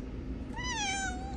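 A house cat caught eating plants lets out a single clear, rising-then-falling meow at close range over faint background hum.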